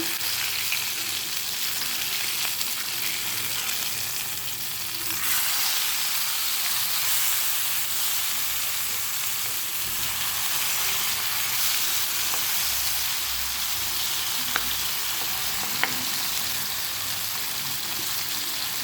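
Fish frying in hot oil for an Andhra-style fish fry, a steady broadband sizzle that holds evenly throughout with a few faint clicks, close and alone with no voices.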